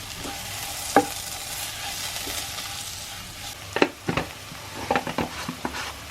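Masala with Kashmiri chilli powder fries in a pan for a fish head curry, a steady close sizzle broken by several scraping stirs of a spoon against the pan.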